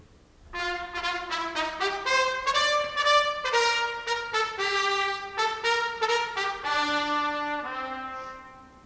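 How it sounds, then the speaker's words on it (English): Cornets blare the opening of the Battle Hymn of the Republic tune as a bold, punchy melody in short, accented notes, loud and close, with no voices over the music. "the cornets are, at the same moment, mind you, are blaring out the first part of the tune."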